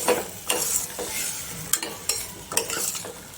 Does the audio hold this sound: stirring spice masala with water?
yes